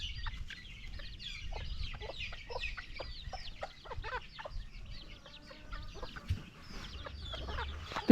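Hen and her chicks in a coop, with a busy flurry of close chick peeps and chirps over soft hen clucks, steady throughout with no voices.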